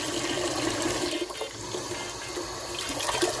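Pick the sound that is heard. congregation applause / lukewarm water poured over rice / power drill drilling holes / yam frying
lukewarm water poured over rice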